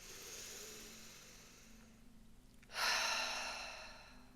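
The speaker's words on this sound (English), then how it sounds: "deep inhales and exhales." Deep breaths drawn in and let out during a guided calming exercise, a soft airy exhale fading early on, then a louder, close rushing breath in the second half, with no talking.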